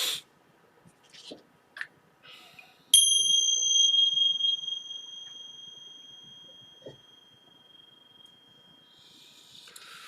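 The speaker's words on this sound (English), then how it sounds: "I will ring the chimes one more time" A chime is struck once, giving a bright, clear ringing tone that fades slowly over several seconds, with a few soft taps and clicks before it.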